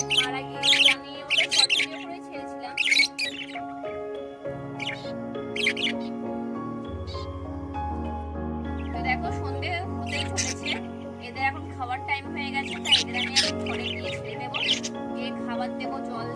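Small pet birds taken outdoors in a village setting, chirping in bright, quick clustered bursts over a steady tonal background, close by and moderately loud.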